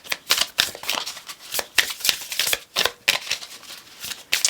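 Tarot cards shuffled by hand in a quick run of crisp riffling bursts, close and fairly loud, with no voices.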